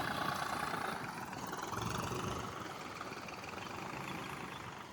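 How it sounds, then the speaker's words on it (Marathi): A tractor engine runs steadily while leveling farm land, a continuous faint mid-to-low drone with slight swells, no voices over it. "हे पहा आपल्या ट्रॅक्टरने लेवल चाललेली आहे या ठिकाणी."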